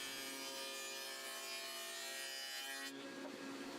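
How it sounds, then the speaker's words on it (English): A table saw fitted with a dado stack plows channels through a wooden surface for T-track, a steady loud whine and grinding rasp that cuts off abruptly near the end. "I could put in my dado stack and plow a couple channels through the main surface that will accept some T-track"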